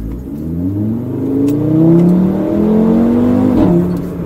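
A 2015 Audi RS3 with the 2.5 TFSI five-cylinder engine revs up and down loudly and close by, its steady, rising exhaust tone broken by a few faint pops and crackles.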